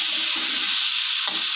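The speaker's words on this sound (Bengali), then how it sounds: "হালকা করে ভেজে নিতে হবে।" Eggplant pieces fry lightly in hot oil, giving a steady, loud sizzle with soft crackle throughout and a brief stir near the end.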